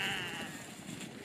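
Lambs bleat outdoors, a close, sustained wavering cry that fades slightly over a second, with no talking.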